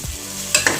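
Onions frying in a pan for a mushroom biryani, with a soft steady sizzle and two quick stirring scrapes near the end, no voices.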